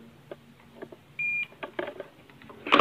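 A multimeter's continuity buzzer gives a single steady electronic beep lasting about a quarter second while testing an LG top-loading washing machine's DC bus, sounding alone amid faint clicks and handling noise.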